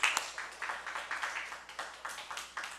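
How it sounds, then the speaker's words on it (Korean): A church congregation claps in a steady rhythmic pattern of sharp, evenly spaced beats, fairly faint and a little distant, with no talk over it. "하나님께 영광의 박수 돌리겠습니다"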